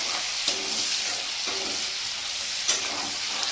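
Onions frying in a pan until brown give a steady, close broadband sizzle, with two or three brief louder stirring scrapes spaced through it and no voices.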